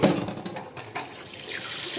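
Tap water runs steadily into a sink at home while crabs are washed under it, a continuous close splashing rush with no voices.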